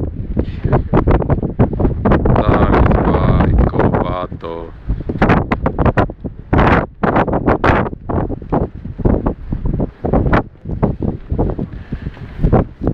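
Gusty wind buffets the microphone in loud, rumbling bursts, with a person talking over it throughout.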